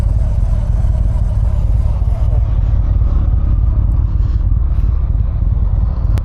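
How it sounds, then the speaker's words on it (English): A 2024 Harley Davidson CVO ST is ridden with a steady, loud, low engine rumble and wind rush running throughout, close and continuous, with no clear gear changes. "This right here is the 2024 Harley Davidson CVO ST."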